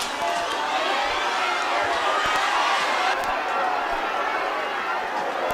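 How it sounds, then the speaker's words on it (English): Boys in a high school rugby crowd cheer steadily at Orange Grove during a Sarel Cilliers match, a broad continuous roar of voices with shouting that holds at full loudness for several seconds. "And that's the Sarel Cilliers boy cheering on their opponents."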